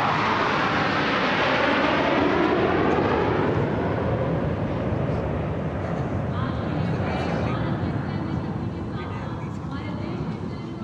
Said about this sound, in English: This is the beam formation which our cameras are now going to catch for you.